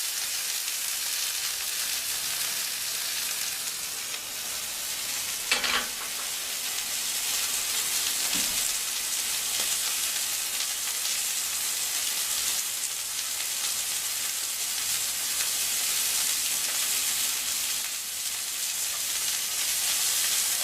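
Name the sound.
kangaroo fillet searing in a pan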